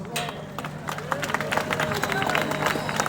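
A crowd in Rwanda claps and cheers for the president in a dense, steady burst of applause, with a murmur of voices underneath throughout.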